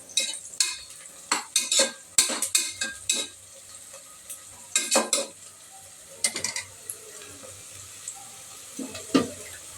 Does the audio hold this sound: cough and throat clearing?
no